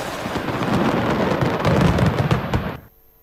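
Fireworks going off in a rapid, dense barrage of bursts and crackles during a Turkish street explosion that damaged nearby houses, loud and continuous for nearly three seconds before cutting off abruptly.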